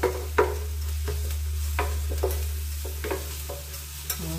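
Onion and garlic frying in a pan give off a steady sizzle over a low hum, punctuated by sharp spatula scrapes and taps every half second or so, with no voices.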